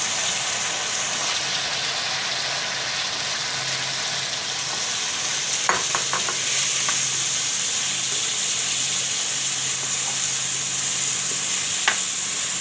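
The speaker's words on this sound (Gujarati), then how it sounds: "હવે આપણે તુરિયા નાખી દેવું એમાં" Ridge gourd sizzles steadily in hot oil with ginger-garlic paste, a constant bright frying hiss with a few brief clinks and scrapes of a spoon partway through.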